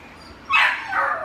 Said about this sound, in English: Yeah, he barks.